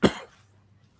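A single close, sharp cough set off by strong chili scent on a farm, dying away into near silence.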